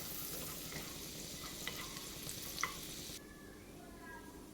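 Garlic and green chilies sauté in a pan for a drumstick sweet corn soup, giving a steady close sizzle with a few light scrapes of stirring and no talking.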